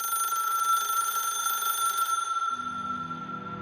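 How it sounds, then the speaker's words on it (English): A telephone rings with a steady electronic tone, fairly close and clear, and the ringing gives way to a low musical drone near the end. "was about to go looking for it when the phone rang"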